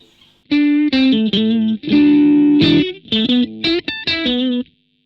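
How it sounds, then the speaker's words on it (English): An electric guitar phrase run through a BOSS ME-90 humanizer effect, its sustained notes sounding like a voice singing 'ah' and 'oh', bright and upfront with no talking. "We've got a humanizer."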